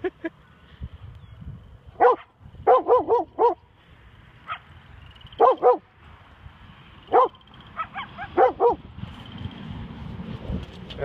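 A coyote in Calgary gives short, sharp yipping barks in separate bursts of two to four, spread across the stretch over a low rumble of background noise.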